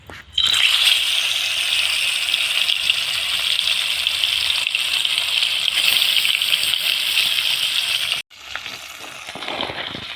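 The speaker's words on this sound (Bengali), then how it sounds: "তেলটা গরম হয়ে গেছে মাছগুলো দিয়ে দেব" Fish dropped into hot mustard oil in a kadai, giving a loud, steady, close-up sizzle that runs for about eight seconds before suddenly dropping to a quieter crackle.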